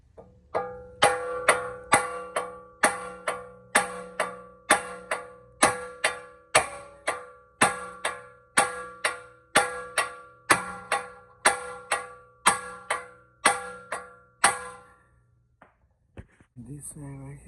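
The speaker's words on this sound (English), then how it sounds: "now with the hammer, I'm gonna hit it right here" Hammer striking the lower ball joint of a Honda CR-V 2.4 during replacement, about twenty sharp ringing metal blows in a steady rhythm, each decaying quickly, loud and close, then a pause with faint shuffling at the end.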